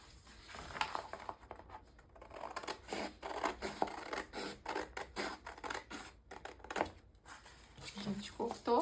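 Scissors snip through a folded paper skirt pattern at the dart, a run of close, crisp cuts with paper rustling between them.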